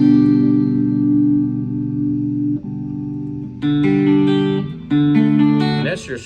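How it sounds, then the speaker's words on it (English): Clean electric guitar through a Flamma FX10 headphone amp with a touch of slapback echo: a held chord rings out, then several short picked chords follow in a loose rhythm. "That's your straight, clean electric guitar, maybe just a little bit of slapback echo."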